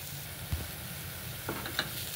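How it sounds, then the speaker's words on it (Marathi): Ground masala roasting in oil for a fish curry, a faint continuous sizzle with a few soft spoon taps and scrapes, quiet and close, no talking. "अशा प्रकारे आपण आता हा मसाला चांगला भाजून घेऊयात"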